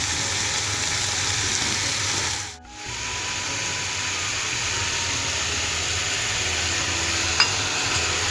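Cut, washed potatoes go into a pan and fry with a constant, fairly loud hiss that dips briefly and then resumes, steady and close, with no talking.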